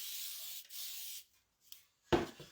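A short hiss of a spray bottle on a whiteboard after some soft rubbing and wiping strokes with a board eraser, close up and brief.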